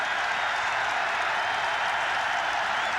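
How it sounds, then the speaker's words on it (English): A college football stadium crowd at UCLA vs USC makes a steady, broad roar of cheering and applause, a continuous din with no break and no clear voices. "the crowd is now setting up a din and cry"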